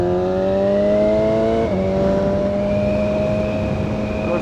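A BMW S1000XR motorcycle engine at high revs on a mountain road in Andorra drops two gears, its steady whine breaking with a sudden pitch jump, then holding a lower, rougher tone.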